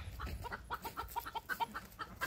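A hen clucks in a quick, uneven series of short, fairly quiet clucks that rise in pitch toward the end while laying an egg.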